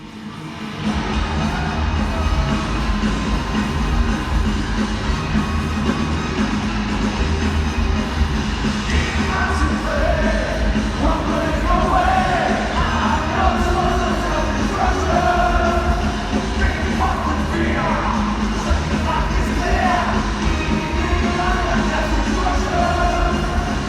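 A huge arena crowd of over 17,000 at the Chase Center in San Francisco cheers and sings along during the S&M concert, a loud, continuous roar over the band with rising yells and melodic chanting midway.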